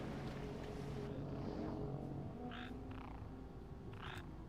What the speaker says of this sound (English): Froggy frog. Making a lot of noise underwater.